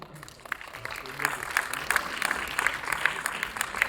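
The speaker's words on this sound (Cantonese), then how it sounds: "掌聲送俾佢。" An audience claps for the winners of a student women's bikini contest, a few scattered claps building into steady moderate applause that stays fairly faint and distant.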